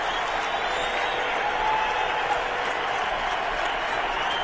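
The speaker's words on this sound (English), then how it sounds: "And listen to the crowd." A loud, roaring crowd at a New England football stadium during a 2007 Cleveland at New England game, a steady wall of cheering and noise with no break.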